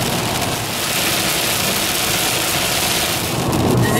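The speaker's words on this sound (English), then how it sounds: "This is the lightest it's rained all day, and it's still legit raining." Heavy rain pours steadily on a car driving through Florida, a dense, constant hiss of drops drumming on the vehicle, loud and unbroken, with no talking.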